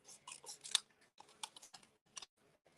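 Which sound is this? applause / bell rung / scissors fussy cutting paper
scissors fussy cutting paper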